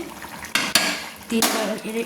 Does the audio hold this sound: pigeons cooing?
no